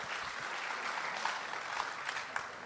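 Audience applause at a Nurses Day commemoration in KwaZulu-Natal, a dense, steady patter of many hands clapping, moderately distant and sustained throughout.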